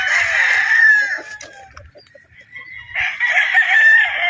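A pure Gilmore gamefowl stag crows twice close by, each crow a loud, drawn-out call separated by a brief pause with faint clucking and rustle beneath.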